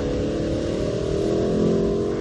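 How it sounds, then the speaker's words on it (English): A Lexus LC500 convertible's 5-liter V8 pulls hard under acceleration, a deep rising growl with steady exhaust rumble, loud and close with no talk. "The rumble of the 5-liter V8 under hard acceleration down these straights, that's pretty special."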